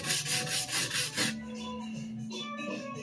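A Takeda knife with wide, narrow bevels is worked on a whetstone in a quick run of about five rhythmic rasping strokes, close and distinct, before the scraping stops and a low steady hum carries on alone.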